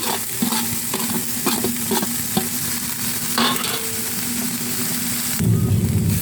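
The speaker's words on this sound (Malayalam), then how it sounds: "ഒന്ന് മിക്സാക്കി കൊടുക്കാം" Roasted semolina is stirred into upma in a sizzling pan, with continuous frying hiss, occasional spoon scrapes and taps, and a louder surge near the end.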